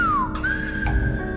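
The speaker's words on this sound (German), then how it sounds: "Auf einer der Kanarischen Inseln gibt es eine Pfeifsprache." A single human whistler produces the whistled language of La Gomera in the Canary Islands: a clear, loud, sliding tone that dips, breaks briefly, then holds a high steady pitch before fading.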